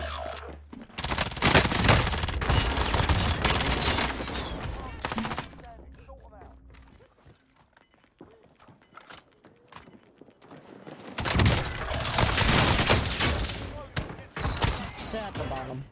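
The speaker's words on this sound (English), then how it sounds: "Team thinks I'm shooting." Rapid bursts of automatic gunfire in Call of Duty Warzone with an M13 rifle, loud sustained volleys at the start, a quieter lull, then another heavy burst of shooting near the end.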